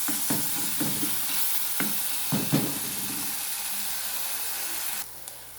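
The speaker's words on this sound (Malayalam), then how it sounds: "ഇഞ്ചിൻ്റെയും വെളുത്തുള്ളിൻ്റെയും പേസ്റ്റ് ഇട്ട് എന്നിട്ട് അത് നന്നായിട്ട് ഇളക്കി പച്ച മണമൊക്കെ പോട്ടെ." Ginger-garlic paste fries in a hot pan for a mackerel and raw mango curry, giving a steady close sizzle broken by several scraping stir strokes before the hiss settles quieter.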